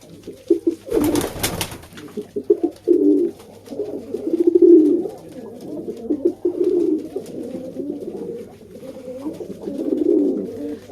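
Pigeons, among them fantail and king pigeons, coo in soft repeated rolling calls close by, with a brief burst of wing flapping or rustle near the start.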